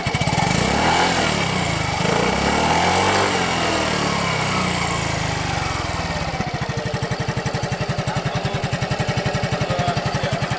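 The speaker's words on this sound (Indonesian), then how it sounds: "Nah, suara knalpotnya seperti ini." A Yamaha Fazzio Hybrid scooter engine runs with its exhaust close by, starting with a rough, busy rev and then settling into a steady, rapid putter at idle.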